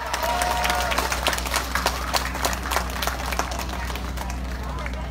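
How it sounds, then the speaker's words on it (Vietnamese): Audience applause for the organizers at a Vietnamese concert rally in Washington, D.C.: a steady, dense patter of many hands that holds through the moment, with a voice speaking over it. "xin quý vị một tràng pháo tay cho ban tổ chức"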